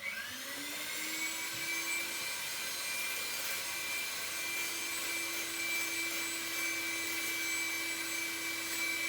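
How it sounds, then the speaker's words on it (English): An electric mixer whips cream for scones until thick, making a continuous whirring motor whine with a steady high tone that holds evenly throughout; no voices. "I'm just going to keep whisking till this is nice and thick"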